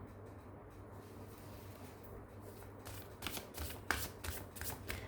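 A deck of oracle cards is shuffled by hand close by, quiet at first, then a run of crisp riffling flutters and soft slaps over the last couple of seconds, with no talking.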